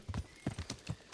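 Quick, uneven clip-clop of horse hooves in the video game Kingdom Come: Deliverance, several hoofbeats in just over a second, fairly close and moderately loud.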